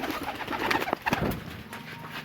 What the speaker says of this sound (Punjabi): ਇਹ ਵੀ ਸਾਜੀ ਸਾਡਾ ਢਾਡੀ ਸਿਆਲਕੋਟੀ ਕਬੂਤਰ ਹੈ